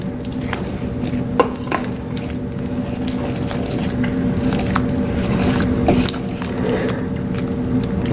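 A spoon stirs cream cheese into a crawfish and potato mixture in a pan over low heat, making soft, wet squishing and scraping. A low, steady sizzle and faint hum run underneath.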